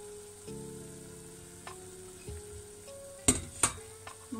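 Lardons sizzle steadily in a frying pan as their juices cook off, a continuous close crackle with two sharp utensil clacks near the end and no talking.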